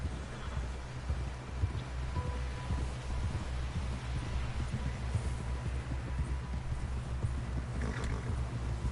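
Horse riding in Red Dead Redemption 2, a steady low rumble of hooves at a gallop under ambient game sound, continuous and moderately loud with occasional faint higher accents.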